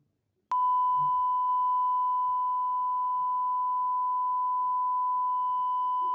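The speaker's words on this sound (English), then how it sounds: "a 1000 hertz tone, and from the observer's point, it was 1068 hertz" A pure sine tone heard at about 1068 hertz, Doppler-shifted from a 1000 hertz source, starts abruptly and then holds steady, loud and unbroken to the end.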